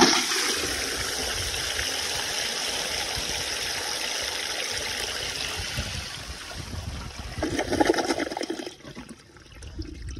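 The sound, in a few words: flush of a 1920 Standard Ejecto vintage toilet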